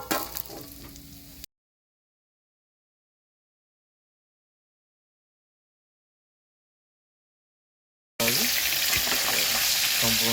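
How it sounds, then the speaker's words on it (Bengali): Pabda fish frying lightly in a small amount of hot oil in a pan, a brief sizzle at first, then a long stretch of silence, then a loud, dense, continuous crackling fry up close. "একটু হালকাভাবে করে ভেজে তুলবো।"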